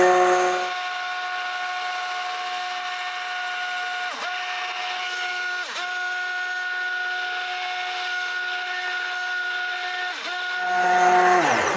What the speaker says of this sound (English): I can feel it with my stick blender.